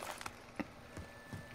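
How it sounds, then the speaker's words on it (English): Footsteps of another player walking on the floor above in a multiplayer shooter video game: a few faint, muffled thuds spaced irregularly over quiet background. "I can hear his footsteps."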